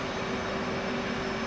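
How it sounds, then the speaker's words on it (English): A jet engine winds up during a start crank in a flight simulator game, giving a steady, loud, even whine and roar with a constant tone and no voices. "Now it is time to crank the left engine."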